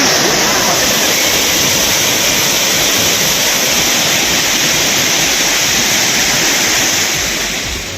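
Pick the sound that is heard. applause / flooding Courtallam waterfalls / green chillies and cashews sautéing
flooding Courtallam waterfalls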